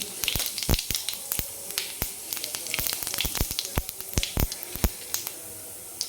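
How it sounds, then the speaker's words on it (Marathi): Cumin seeds sizzle and spit in two ladles of hot oil, a steady close frying hiss broken by many sharp crackling pops throughout, with no talking. "तेल छान गरम झाल्यानंतर आपण याच्यामध्ये जिरे टाकणार आहे"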